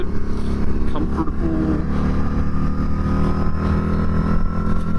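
A Harley-Davidson V-Rod Night Rod Special is ridden, its loud, steady engine drone and wind rush continuous throughout with slight rises in revs.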